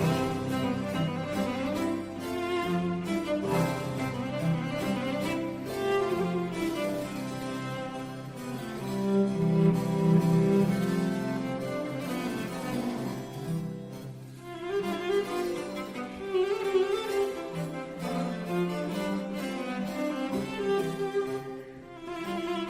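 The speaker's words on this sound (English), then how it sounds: "you can hear that other cello kind of making comments in the background too," A recording of a Boccherini cello sonata: a rich, full-toned solo cello carrying the melody while a second cello answers quietly underneath, playing continuously with no talking.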